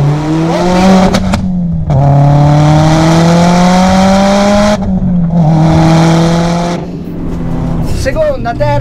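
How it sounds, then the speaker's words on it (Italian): A car pulls hard through second, third and fourth gear, each loud engine howl climbing in pitch before a quick drop at the shift, with a voice speaking over the roar. "Seconda, terza, quarta marcia, a lei non gliene frega una mazza. Senti come esce."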